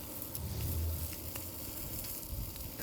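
Bacon browns in a Dutch oven at a camp cooking setup, giving off a steady, close crackling sizzle with scattered pops and spits of fat, no voices over it.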